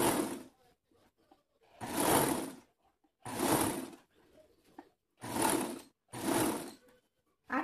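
A sewing machine stitches a seam on a draped dress with batwing sleeves, running in five loud bursts of a second or so each, separated by quiet pauses.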